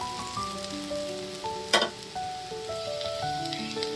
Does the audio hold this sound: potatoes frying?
yes